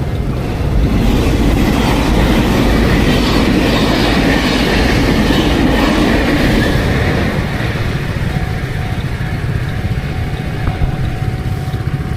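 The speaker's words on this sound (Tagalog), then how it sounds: "Kasi may dadaan na tren." A train rumbles loudly past a railway crossing in Taiwan, a heavy continuous roar with rhythmic clickety-clack of wheels, easing slightly toward the end as a faint steady tone rises from the crossing.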